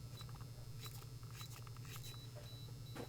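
A few short electronic beeps from an FE575 electronic access control lock keypad, faint and spaced apart over a steady low hum.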